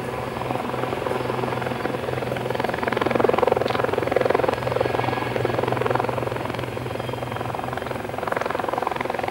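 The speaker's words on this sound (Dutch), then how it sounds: "De helikopter vliegt achteruit." A Westland Lynx navy helicopter's rotor and engine drone steadily and loudly at an air base demonstration, swelling slightly in the middle as it hovers close by and flies backward.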